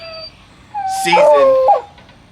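Dogs in a kennel give a run of close, high whimpers and yips, rising to a whining cry near the end over a low background hum.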